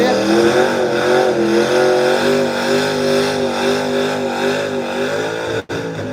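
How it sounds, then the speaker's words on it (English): Race car doing a big burnout at a track during a racing event, with a loud, steady, sustained engine roar and tire noise close by, running the whole time before a brief sharp drop near the end. "Woo, big old burnout."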